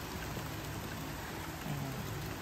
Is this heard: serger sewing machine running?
no